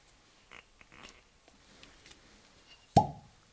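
A cork is pulled from a bottle of Royal Brackla 12-year whisky, with faint handling rustles before a single loud, hollow pop near the end.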